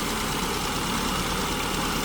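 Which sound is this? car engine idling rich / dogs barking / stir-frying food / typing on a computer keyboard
car engine idling rich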